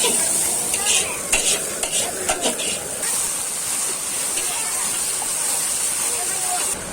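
Ginger garlic paste fries with onion, bay leaf and whole garam masala in a pan, giving a loud continuous sizzle and hiss, with a few clattering stirs near the start and a voice speaking faintly underneath.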